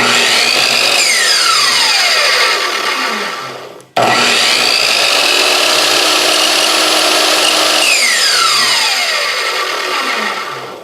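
A Chicago Electric 10-inch miter saw spins up loudly, runs, then winds down, then starts again with a sharp whine that settles and slowly fades, all up close with no talk.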